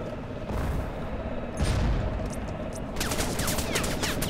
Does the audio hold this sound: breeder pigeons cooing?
no